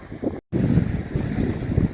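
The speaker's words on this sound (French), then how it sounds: "C'est un peu plus venteux." Strong wind on a beach, roaring steadily into the microphone with a low rumble of nearby surf, broken by one brief dropout.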